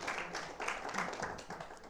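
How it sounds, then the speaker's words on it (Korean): A church retreat congregation claps together, a short, dense burst of applause at moderate loudness that holds steady for a couple of seconds. "박수 한번 쳐줍시다."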